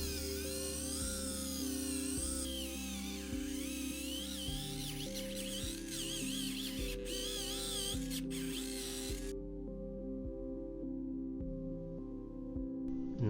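An Agaro electric callus remover grinds dead skin from feet, a steady motorized whine with a faint rhythmic bumping pattern, close and continuous, its high grinding edge dropping away near the end.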